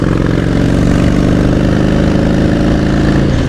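A Harley-Davidson Softail Deluxe motorcycle engine runs loud and close, a continuous deep, throbbing rumble at a steady pace with no talk over it.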